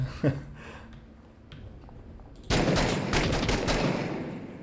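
RPGs being fired during a firefight in the video game Six Days in Fallujah, heard as a sudden loud burst of blasts and gunfire after quieter low rumbling.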